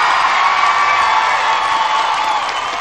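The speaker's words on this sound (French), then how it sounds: "Voici Maryse, on l'applaudit!" A studio audience applauds and cheers for Maryse, a steady, loud wash of clapping and voices that holds for a few seconds without pause.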